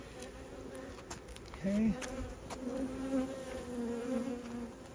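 Honeybees buzzing during a beehive inspection, a faint steady drone with brief louder passes of individual bees nearby, and a single short spoken word.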